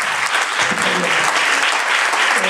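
Loud, close applause from a political gathering audience, dense clapping throughout with some voices mixed in beneath.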